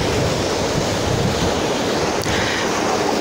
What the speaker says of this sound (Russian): Посмотрите, какой у нас океан сегодня шикарный.